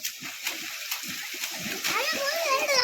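Children jump into water in a flooded paddy field by the fields, making loud, close splashes and sloshing while kids' voices shout and chatter over the water.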